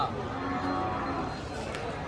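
A deep, drawn-out bull moo rises over a noisy outdoor cattle market background in Dhule, with faint crowd chatter around it.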